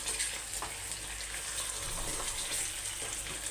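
Chicken dropped into a pan with plenty of onion and whole spices for a stew, frying with a soft, continuous sizzle that stays even and fairly quiet throughout.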